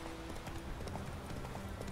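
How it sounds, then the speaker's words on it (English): Clip-clopping hooves of a horse galloping in The Witcher 3, a quick steady beat heard faintly under game background sound. "Alright, let's hop on the horse."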